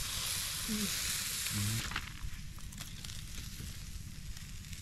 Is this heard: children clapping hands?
no